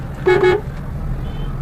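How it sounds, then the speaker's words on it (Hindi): A car horn gives one short honk in a slow-moving traffic jam, heard from inside a car over the low rumble of engines and road noise. "अब टेम्पो वाले देखते नहीं है तो उन्हें हॉर्न देना पड़ता है।"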